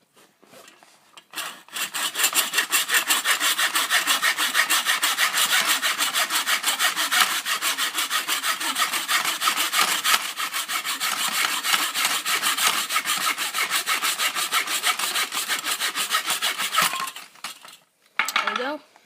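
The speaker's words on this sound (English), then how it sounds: "So back to the miter saw, and then we're cutting that bit off" A miter saw cuts through wood, starting after a brief pause and running as a steady, loud rasping cut for about fifteen seconds before stopping, with a short burst at the end.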